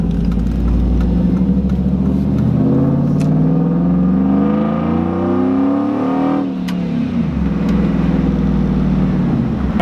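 A cammed 5.3 V8 in a Chevrolet Silverado with a freshly installed MAF sensor and new spark plug wires runs loud and close, its choppy lumpy rumble rising and falling through revs with no talk over it.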